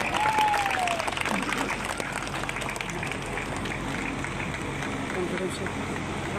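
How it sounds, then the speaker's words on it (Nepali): An audience claps at a factory opening event in Lumbini, Nepal, giving sustained, dense applause that fills the space while a voice carries over it. "उहाँको लागि जोरदार ताली"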